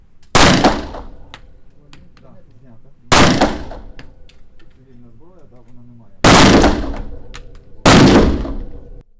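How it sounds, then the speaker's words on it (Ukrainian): Four loud, sharp gunshots ring out several seconds apart at an outdoor shooting range, each trailing off, with quieter clatter and faint voices in between. "Поруч стріляє Роман."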